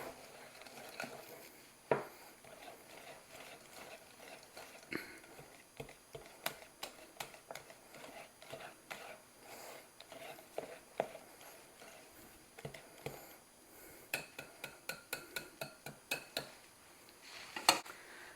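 A spoon scraping and knocking around a bowl of cake mix being stirred by hand in a kitchen, with irregular light clinks and taps that come in scattered bursts, close and fairly quiet, with no voices.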